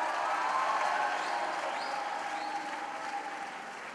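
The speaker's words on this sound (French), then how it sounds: "On l'applaudit." A crowd applauds at the opening ceremony of Grand Kiff 2025, a sustained, even roar of clapping that sounds slightly distant and fades gently by the end.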